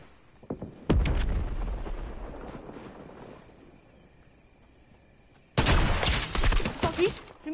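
Heavy gunfire and blasts erupt in a video game: a short rattle, then a loud burst that fades into rumbling, a quiet lull, and a second sharp barrage of rapid shots near the end.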